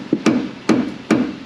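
A mallet strikes a wheel hub on a 2000 Chevy Silverado GMT800 pickup, landing three sharp, loud metallic knocks in quick succession, close by with no talking.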